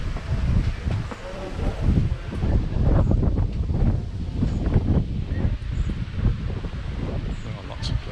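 Strong gusts buffet an outdoor microphone on the seafront at Colonia de Sant Jordi, Mallorca, a loud continuous low roar with surging swells throughout.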